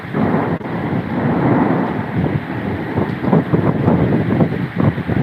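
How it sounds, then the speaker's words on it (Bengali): Thunder rumbles low and heavy during a rainstorm, mixed with gusting wind buffeting the microphone, a loud, continuous roar with no voices. "বজ্রপাত হইতেছে"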